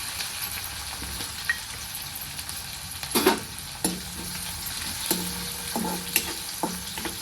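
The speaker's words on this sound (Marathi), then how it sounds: "लसूण आणि हिरवी मिरची छान अशी लाल झालेली आहे" Garlic and green chillies frying in hot oil, a steady close sizzle broken by several spoon strokes scraping and tapping against the pan at irregular intervals.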